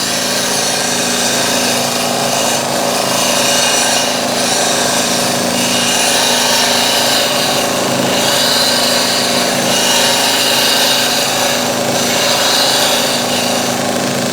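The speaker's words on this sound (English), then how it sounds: "I'm just going to use this as a scraper to tidy that up" A woodturning tool used as a scraper against wood spinning on a lathe gives a steady, continuous rasping scrape with a constant motor hum beneath it, loud and close throughout.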